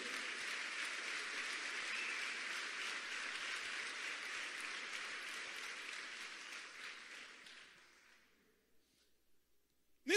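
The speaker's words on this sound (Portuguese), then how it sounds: "se expresse e aplauda o Senhor" A church congregation applauds steadily and fairly loudly for about eight seconds before the clapping fades into near silence, with a brief sharp sound at the very end.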